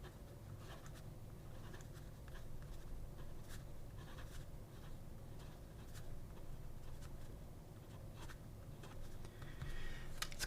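An original Dolce Vita oversize fountain pen with a huge flared nib scratches across paper in short, faint strokes, close by and alone over a quiet background hum.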